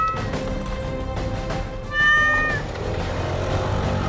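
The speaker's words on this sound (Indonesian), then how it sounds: "Sekarang kita ngikutin kucing ini dulu ya." A cat gives a single clear meow during a scene in an Indonesian drama series, standing out briefly over steady background noise.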